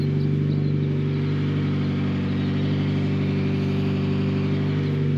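A BMW E90 M3 with a weak, aging battery runs steadily after starting at a car meet, a loud, close, even engine drone with strong low harmonics and no talk over it.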